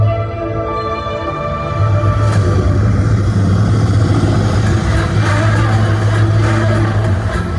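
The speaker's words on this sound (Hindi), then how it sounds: "ये हेलीकॉप्टर कहाँ से आ गया?" A helicopter passes overhead in a film scene, a loud, steady rotor and engine drone that holds throughout with a low hum and faint broadband rumble, no voices.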